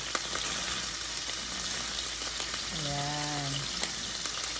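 Garlic frying in a pan while cooking adobong kangkong, a steady soft sizzle throughout with a short spoken word over it.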